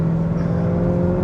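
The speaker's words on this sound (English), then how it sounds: "The downshifts on this car were always my favourite part." A BMW E92 M3 with a loud custom exhaust holds a deep, steady, droning engine note close by, strong and humming with no talking.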